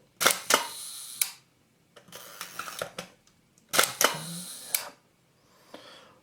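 A Hasselblad Planar 80mm f/2.8 lens with a sticky leaf shutter is fired and cocked up close, giving three bursts of crisp mechanical clicks and ratcheting winds separated by short pauses, with no talking.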